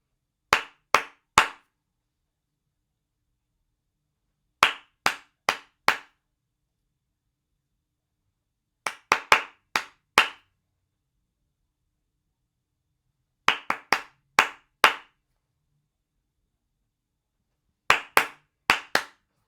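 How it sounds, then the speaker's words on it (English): Hand clapping in a call-and-response pattern: groups of three or four sharp, close claps repeat at regular intervals, with silence in between and no talking. "I'm going to do some claps and then you are going to do some after me."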